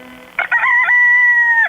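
A rooster crows once in a radio advertisement, a loud, close cock-a-doodle-doo with a few choppy opening notes followed by a long, sustained final call.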